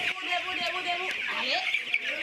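Broiler chickens clucking on a farm of several houses, a continuous busy chatter of many birds with occasional squawks, fairly close and steady throughout.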